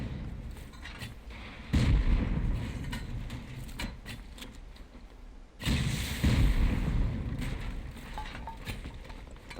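Rocket and C4 explosions boom during a raid in the video game Rust. Two heavy blasts land close by, each a loud rumbling thud that rings out over a constant grinding, mechanical background din.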